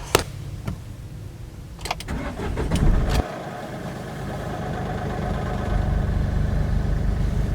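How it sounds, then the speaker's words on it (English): A Mahindra TUV300 compact SUV cranks over with a brief starter whir, catches, and settles into a steady mid-pitched idle that hums on loudly, with a few clicks and interior noises beforehand and no talking. "let's crank the motor and give this a try"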